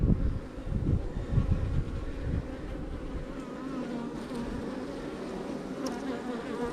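A dense, steady drone of many honeybees buzzing close around a hive, continuous and loud throughout with no talking.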